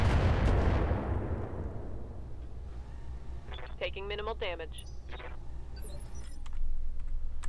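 Missile launchers fire in the game Roguetech, a heavy booming blast that fades over the first second, followed by rumbling battle noise and chirpy radio-like tones, with voices talking in the background.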